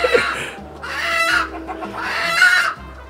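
Egg-laying country chickens cluck and squawk close by in repeated bursts inside a large, spacious poultry shed, with a low background hum underneath.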